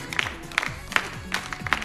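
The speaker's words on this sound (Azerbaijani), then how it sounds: "Alqışlar gəlsin Rüfət üçün." An audience at a comedy show claps in a steady rhythmic beat for the performer Rüfət, sharp close handclaps repeating in even pulses over a soft crowd murmur.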